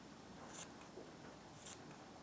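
Scissors snipping fur on a handmade sewn Christmas teddy bear: two quiet, crisp cuts about a second apart, close up and with no voice.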